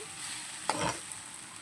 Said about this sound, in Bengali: মশলাটা দিয়ে আমি ভালো করে কষিয়ে নিলাম।